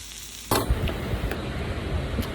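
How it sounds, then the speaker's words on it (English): Loud sizzling of ground beef frying in a pan at a campsite in British Columbia, starting abruptly with a sharp crackle and continuing as a steady hiss with scraping stirs. "Listen to that sizzle."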